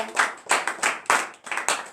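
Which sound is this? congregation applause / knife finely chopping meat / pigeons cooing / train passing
congregation applause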